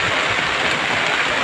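Heavy rain at sea makes a dense, steady hiss that holds for the whole moment without a break.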